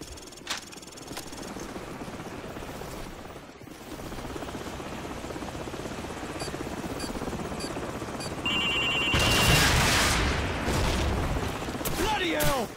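Enemy helicopter in the Call of Duty 4: Modern Warfare mission The Hunted, a steady rotor drone running under game battle noise, swelling louder near the end with bursts of effects.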